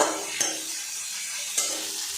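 Onion and crushed garlic frying in a pan while being stirred, a soft steady sizzle broken by two sharp scrapes of the spoon against the pan.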